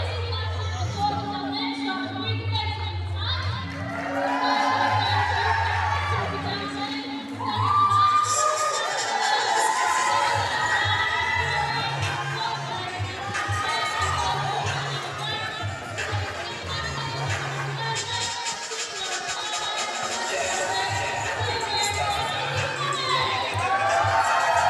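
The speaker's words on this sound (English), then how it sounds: "And now hear the cheer for the Archers." A crowd cheers for the Cardiff Met Archers netball team as they are introduced against Hartpury, with steady loud shouting, whoops and high-pitched children's cries. Rhythmic chanting and drumming-like pulses run underneath throughout.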